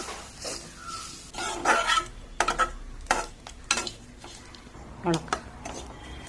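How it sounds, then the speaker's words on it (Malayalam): Grated coconut is roasted in a pan: a spatula scrapes and stirs in short, irregular strokes over a faint sizzle, close up. "ആദ്യം തേങ്ങ വറുക്കണം."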